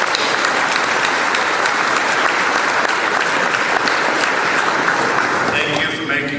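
Sustained applause from an audience at a search-and-rescue exercise opening gathering at Hume Lake, dense steady clapping throughout, loud and continuous, fading slightly at the end.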